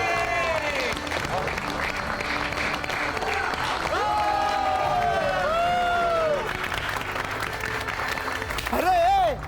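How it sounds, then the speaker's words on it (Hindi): Audience applause from a studio crowd at a Hindi television comedy show, steady clapping throughout with bright musical tones and a brief vocal swell near the end. "ताली क्या बजाता है मैन?"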